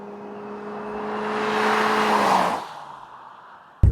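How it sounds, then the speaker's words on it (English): A 2013 Ford C-Max Energi hybrid floored from low speed, a rising whine and whooshing engine-and-motor sound building loudly, then easing off, ending with a sharp bump. "I'm just flooring it."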